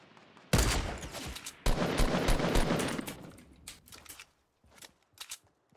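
Rapid bursts of automatic gunfire from the Fortnite video game, two loud dense volleys followed by scattered quieter shots and trailing echoes, with no talk.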